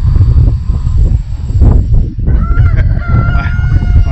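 Poultry on a Texas ranch give loud, close calls over a busy yard, with a rooster's strained crow rising midway among clucking and honking from other fowl.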